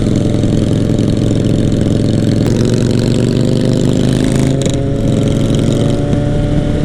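A Yamaha MT sport motorcycle engine idles steadily and close by, a constant low rumble that holds throughout with a slight shift in tone near the end.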